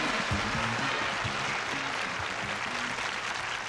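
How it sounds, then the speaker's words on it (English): Studio audience applause on a 1981 TV game show, a dense, steady wash of clapping at full level throughout, with a faint voice or music tone lingering underneath. "while you're in a clapping mood, welcome our solo player, Renee Lackey."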